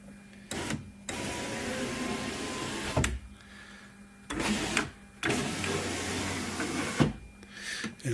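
Power window motor on a Nissan Xterra door after a window regulator replacement, a steady whirring hum in several runs broken by short pauses and clunks as the glass travels and stops, close and fairly loud.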